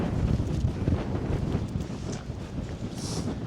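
Strong wind buffets the microphone on a hillside in the Mell Fells of the Lake District, a loud continuous rumbling roar with gusty swells.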